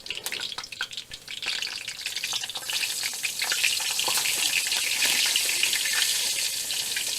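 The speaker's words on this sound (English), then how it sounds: "As you can hear that my pan is nice and hot now, so let's drop some in the pan" Floured pork pieces browning in hot oil in a pan, a steady dense sizzle that swells louder as more meat goes in, with faint clinks and stirring, close and alone without talk.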